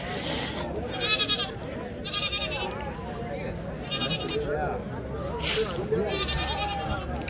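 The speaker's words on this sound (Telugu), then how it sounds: "మేక పిల్లలు ఉన్నాయి." Goats and sheep bleat several times at a busy Sunday livestock market in Chintamani, with the loud, wavering calls coming at intervals over a constant background of crowd chatter.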